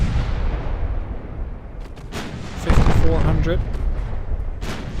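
20-inch naval guns fire in the Ultimate Admiral: Dreadnoughts warship game, heavy booming blasts with a rumbling low roar and a sharper salvo midway, while someone speaks briefly over the battle.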